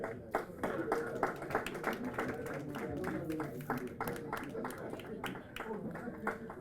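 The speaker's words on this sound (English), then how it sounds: "A big clap." Audience applause at a graduation ceremony in Dubai, a moderately loud patter of many hands continuing under a voice in a large hall.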